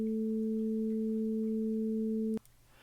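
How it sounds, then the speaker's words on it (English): Two steady sine tones an octave-like step apart sound together as one clean, sustained synthesized note, then cut off sharply, leaving faint hiss. "we perceive that as a single note, even though it's actually made up of two different frequencies of sine wave"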